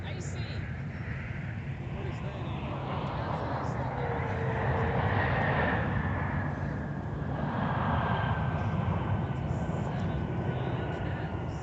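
An Icelandair 737 MAX 9 airliner lands at Minneapolis airport with a steady, broad jet roar that swells and fades gradually, heard from a distance outdoors, with no voices in the clip.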